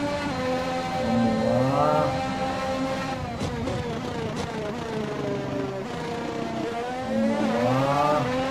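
Formula 1 car engine in F1 2021 at the Austrian Grand Prix, a high-pitched racing engine revving and rising through gears, loud and continuous with repeated upward pitch sweeps.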